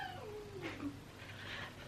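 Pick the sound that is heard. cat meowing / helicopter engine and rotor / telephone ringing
cat meowing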